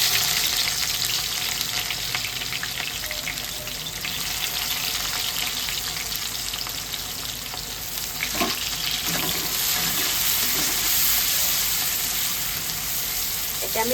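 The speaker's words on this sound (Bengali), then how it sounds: "এটা আমি একটু বেরেস্তার মতন ভেজে নিচ্ছি," Sliced onions fry in a wok into crisp berista for butter chicken, giving a loud, steady hiss and sizzle with a few occasional scraping stirs partway through and no voices.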